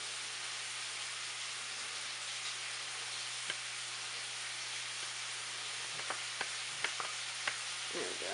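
Meat seasoned with salt and pepper sizzles steadily in a hot pan, a constant close frying hiss with a few faint clicks and taps toward the end, no talking.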